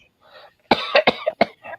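A short burst of several sharp, close coughs in quick succession, preceded by a faint breathy throat sound.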